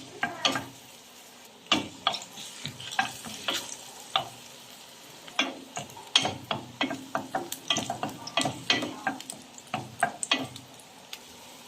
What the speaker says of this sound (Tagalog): At dahil mainit na yung mantika, ilalagay na natin yung luya.